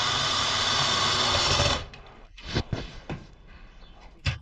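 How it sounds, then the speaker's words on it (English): A nut being tightened by hand on a homemade mini wind generator, with a dense mechanical whir that stops abruptly, followed by several separate metallic clicks and ratcheting taps nearby. "I'm putting the last nut on."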